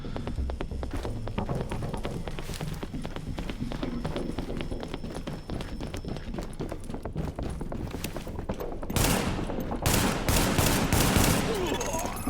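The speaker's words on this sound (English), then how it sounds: "What if I could just pistol this guy from here? I'm using a Magnum." Gunfire in The Division: a Magnum pistol fired repeatedly in a dense, continuous run of sharp cracks, with a louder burst of shots toward the end.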